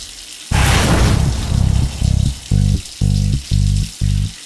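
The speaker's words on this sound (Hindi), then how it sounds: "ये पानी की आवाज बाथरूम से आ रही है ना?" Water gushes loudly from an open bathroom tap, a dense hiss at first that then breaks into regular pulsing bursts with a ringing tone over them.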